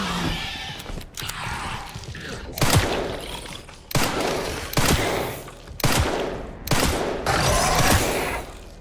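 Gunshots from a handgun in the Resident Evil 9 video game ring out in a steady series of about six loud, sharp cracks spaced roughly a second apart, each trailing into a short echo over a low game backdrop.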